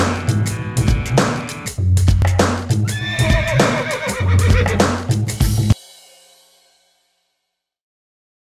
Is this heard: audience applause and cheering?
no